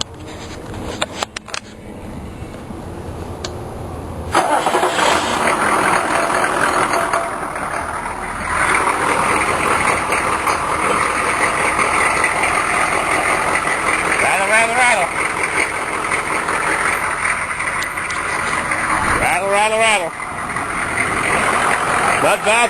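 A Ford International truck engine with about 280,000 miles is started and then idles with a steady low rumble that goes on for most of the clip. Someone talks over it.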